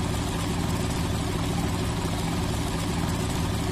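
Diesel locomotives working hard in the Trainz 2019 train simulator on the C&O Hinton route give off a steady, loud, low engine drone that holds evenly throughout with no voices.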